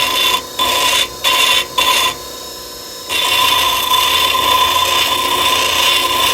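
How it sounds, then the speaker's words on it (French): Grinding wheel working the sides of a carved stone, a loud steady abrasive whine with a few short stops and restarts early on, then continuous grinding close up, no voices. "il faut tout faire les côtés à la meule"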